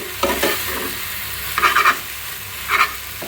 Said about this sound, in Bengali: পাট শাক ভাজিটা হয়ে আসছে প্রায়।